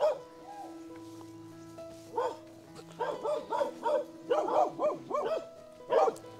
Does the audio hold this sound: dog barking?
yes